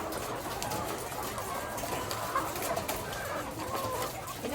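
Hungry poultry chickens clucking and fussing while being fed crumble layer feed, a busy continuous flock murmur with scattered clucks at moderate distance over steady background noise.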